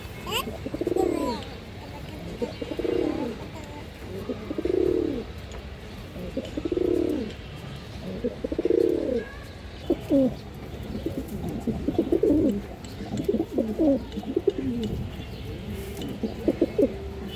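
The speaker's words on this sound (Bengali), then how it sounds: "এই দেখেন কবুতরের সাইজে দর্শক বড় আছে, ফিটনেস সব ঠিক আছে" High-flyer pigeons coo in a steady series of deep, rolling calls repeating about every two seconds, close and clear, joined later by rustling and faster overlapping coos.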